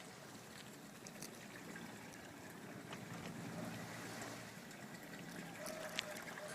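Water trickles and bubbles up from a crack in the ground in a park during an earthquake, a faint, steady wash of flowing sound with a low rumbling background.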